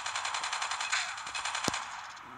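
Rapid automatic gunfire in a Call of Duty match, a steady rattling stream of closely spaced shots with one sharper, louder crack standing out near the end.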